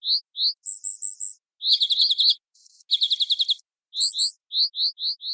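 Fairy wren alarm calls mixed with a synthetic alarm call: bursts of high, rapid chirps and buzzy trills alternating with short sliding whistle notes, clear and close with brief silences between.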